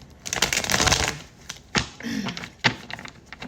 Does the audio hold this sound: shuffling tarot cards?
yes